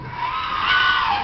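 A trained seal named Cléo lets out a sustained throaty call during an animal show, a steady strained tone that holds across the moment with a slight swell near the middle, close and fairly loud.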